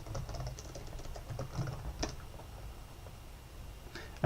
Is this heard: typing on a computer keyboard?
yes